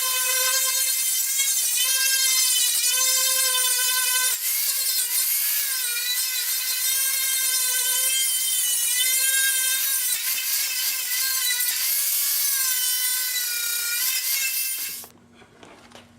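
An angle grinder with a wire brush works the cowl of a 1930 Ford Model A, a loud, continuous high whine with wavering pitch that runs alone and steady for about fifteen seconds before cutting off.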